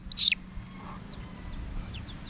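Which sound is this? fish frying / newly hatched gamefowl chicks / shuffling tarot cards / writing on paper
newly hatched gamefowl chicks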